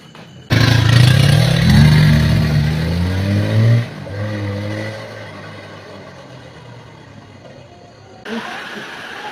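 A motorcycle engine revs loudly and rises in pitch, then drops back to a lower idle before briefly picking up again.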